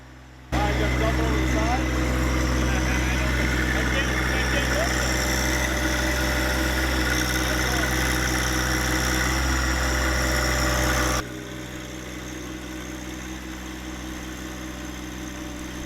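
A tractor front loader engine idles steadily near a stump being loaded, a loud continuous low rumble that drops in level partway through.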